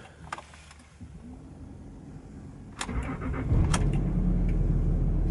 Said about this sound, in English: I'll just start the engine.